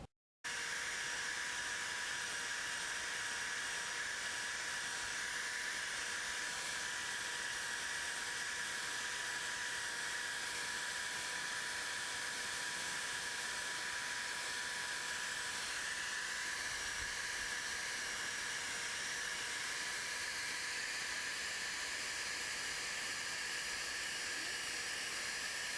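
A carved wooden sign gets rough sanding from a power sanding tool, a faint, continuous whirring hiss with steady tonal whine that runs unbroken for nearly half a minute, no voices.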